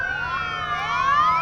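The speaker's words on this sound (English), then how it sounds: "the old style police car." Wailing siren from an old-style police car, styled after a 1960s sheriff's cruiser, rolling in a small-town elementary school homecoming parade; a steady, close, rising and falling tone sounds alone with no voices.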